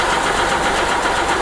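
A Hyundai Matrix 1.5 CRDI diesel engine, with its hydraulic lifters just replaced, runs loud and close with a dense, steady clatter in this short stretch.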